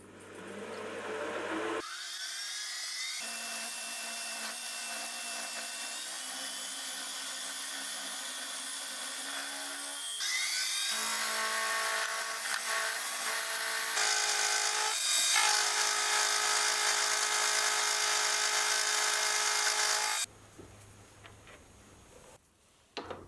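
A metal lathe takes relatively heavy cuts with coolant running while a ball turning attachment is built, giving a continuous high whine and scraping chatter that shifts in pitch between passes, with no voices.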